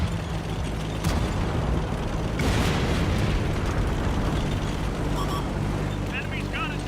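Heavy tank cannon booms in a Hot Wheels tank battle game, one big blast standing out over a constant loud mechanical rumble, with other bursts and clanks scattered around it.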